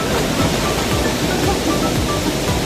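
Bugasan Falls, a waterfall in Barangay Mabini, Basey, Samar, roars in a steady, loud, continuous rush of falling water heard up close.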